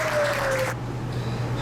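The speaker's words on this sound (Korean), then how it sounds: "열심히 하시는 박찬호 작가를 다시 한번 박수 한번 부탁드립니다." An audience at a Korean performance event claps in a short, dense burst of applause that quickly drops away. A low steady hum continues underneath.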